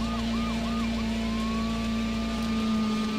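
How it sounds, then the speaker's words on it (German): A police car siren in the racing game Need for Speed III: Hot Pursuit wails steadily over a constant engine drone, with a few rising-falling sweeps at first and then a long held tone. "Können ja mal Sirene anmachen."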